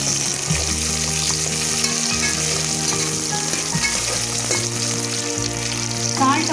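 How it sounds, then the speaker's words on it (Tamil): Onions sauté in hot oil inside a pressure cooker, giving a steady, loud, close sizzle with faint stirring scrapes throughout and no speech. "ஆயில் சூடானப்படி நம்ம எடுத்து வச்சு அந்த வெங்காயம் எல்லாத்தையும் உள்ளே சேர்த்து வதக்கிக்கலாம்."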